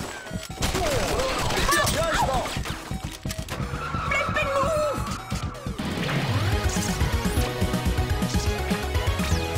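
Rapid gunfire bursts in the video game Not A Hero, with dense crashing impacts and chaotic game action layered throughout, loud and continuous.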